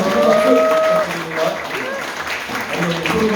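After a film screening, an audience breaks into a short burst of applause mixed with crowd murmur and a voice speaking over it.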